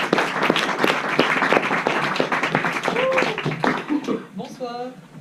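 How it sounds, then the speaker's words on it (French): An audience at a Lausanne talk applauds as the speaker is introduced, clapping that thins out toward the end while a voice comes in over it. "sous vos applaudissements"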